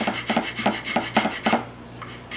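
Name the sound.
rasp filing a Winchester 1895 musket stock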